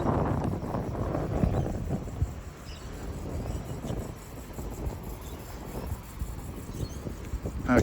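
Gusty wind buffeting the microphone outdoors at Sydney Terminal railway station, a low rumbling roar that rises and falls throughout with no clear speech.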